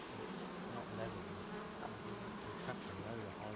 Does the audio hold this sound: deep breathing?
no